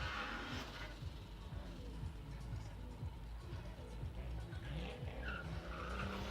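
A Nissan 240 drift car at a drift track test-and-tune day: a rough engine drone with tire squeal rising, heard at a distance and fairly faint beneath a continuous outdoor rumble.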